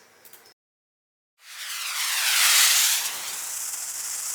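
A flare and a firework burning, heard as a brief faint sputter, a moment of silence, then a steady broad hissing rush that swells and fades slightly while continuing.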